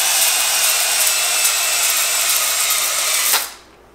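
A power drill whines loudly at high speed, steady and close, working in the cylinder bore of a junkyard LS 5.3-litre engine, then cuts off and winds down near the end.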